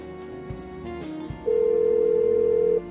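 Telephone ringing in the adventure game Blackwell Unbound: a dialing tone and clicks, then one sustained electronic ring tone held steadily for over a second, loud and alone.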